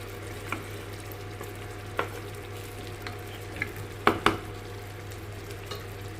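Chicken legs frying in a pan, Andhra style, with steady sizzling and a few sharp clinks and scrapes as the pieces are stirred, close by and without talk.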